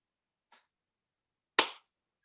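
A single sharp hand clap rings out close and loud in a quiet room, preceded by a faint brief click, used to sync a recording.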